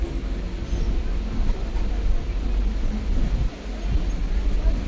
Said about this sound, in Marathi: आता मी डोंबिवलीवरून ट्रेन पकडली बोईसर,